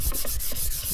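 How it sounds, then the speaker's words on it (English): Wood being sanded with the grain on a beaded tray, a steady rhythmic rasping rub with repeated back-and-forth strokes, close and continuous with no voices. "So you're going to want to make sure that you sand with the grain."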